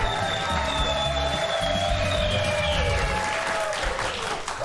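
Steady, sustained applause from a television studio audience fills the whole stretch, with some cheering mixed in and music playing faintly underneath.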